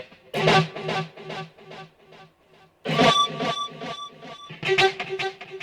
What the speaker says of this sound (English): And the delay by itself sounds like this.